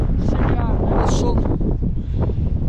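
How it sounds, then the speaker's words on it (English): Strong wind buffets a GoPro Hero 10 microphone with a constant low roar while a person talks over it. "it is quite windy"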